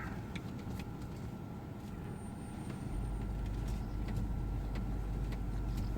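A Range Rover reverses slowly in a crowded driveway, its engine a steady low rumble that grows heavier and louder halfway through as it backs up, with no voices over it.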